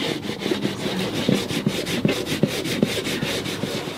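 Steady back-and-forth rubbing of sandpaper on a teak deck, a rhythmic scratchy hand sanding close by with repeated strokes and no talking.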